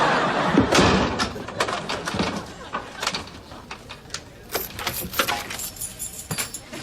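Keys jangle and clatter in a sitcom scene, a series of sharp metallic clicks and rattles with a heavier thump near the start, close by and irregular.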